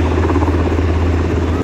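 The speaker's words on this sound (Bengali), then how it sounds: "সৌদি আরবের পতাকা উড়িয়ে নিয়ে যাচ্ছে পাঁচটা হেলিকপ্টার" Five helicopters flying past carrying Saudi Arabian flags during a Saudi national day air show, escorted by another helicopter, a loud continuous rotor and engine drone with a steady low throb, close and unbroken.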